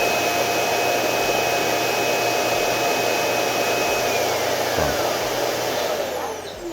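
Roborock S8 Pro Ultra robot vacuum dock running its suction, a steady loud whooshing roar with a high whine that holds for several seconds and then eases off at the end.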